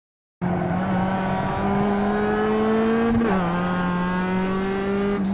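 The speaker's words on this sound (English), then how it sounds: "after I shift into 2nd, let the car coast through here a little bit, and then back onto the throttle again" A Mazda MX-5 in the iRacing game at Okayama pulls hard under throttle, its engine note climbing steadily, then a quick upshift drops the pitch before it climbs again, loud and continuous.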